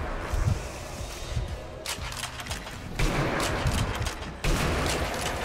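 Gunfire in the video game Sniper Elite Nazi Zombie Army comes in repeated sharp bursts and rattling volleys, with a few distinct heavy shots punctuating a busy, fairly loud barrage.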